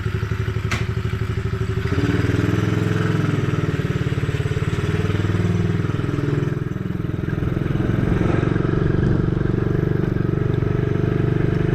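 Mini Coolster dirt bike, freshly rewrapped from red to pink, runs throughout a ride with a steady loud low engine drone and rattly clatter, sputtering at first and then settling into a continuous buzz.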